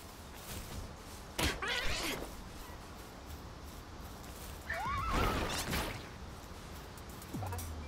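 A horse in the Palworld video game neighs and whinnies in a few loud, rising bursts over steady game background noise, with a dull thud near the end.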